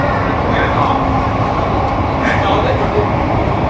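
An underground metro train in Mumbai runs at speed, a dense, loud rumbling roar of rail noise that is steady and close, with faint talk mixed in.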